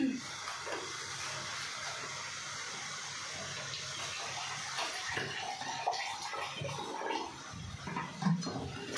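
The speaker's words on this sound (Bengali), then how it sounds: "এবার আমি অ্যাড করবো জল" Water pours into a spice paste for Bengali fish curry, a soft splashing gush that runs on and off in a quiet kitchen.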